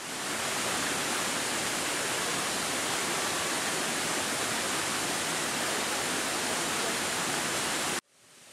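Tirta Rimba waterfall on Buton island in Indonesia, a dense, roaring wash of falling water that stays loud and unchanging for about eight seconds before cutting off abruptly.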